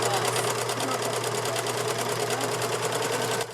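A sewing machine stitching cloth face masks runs fast and close, its needle hammering in an even rapid rhythm that stops abruptly near the end.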